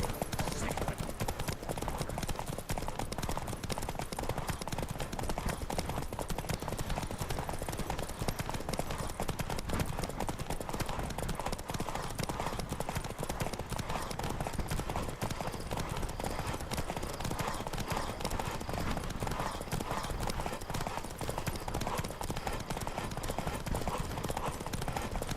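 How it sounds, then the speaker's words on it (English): Horse hooves gallop in the video game The Witcher 3, a fast continuous clip-clop drumming steadily throughout, close and busy under rushing wind-like noise, with voices now and then. "Don't spare the horse!"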